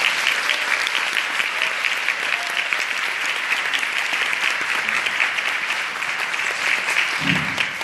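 Lecture audience breaks into sustained applause, a dense, even wash of many hands clapping for nearly eight seconds, steady and fairly loud throughout, with a brief low bump near the end.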